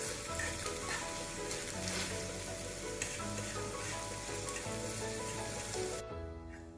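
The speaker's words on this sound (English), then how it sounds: "Now you can scramble the egg. Just break it into pieces like this." Egg being scrambled and fried in a pan while making Schezwan chicken fried rice, with a loud, continuous sizzle and scraping from breaking it into pieces, close up and without speech until it cuts off.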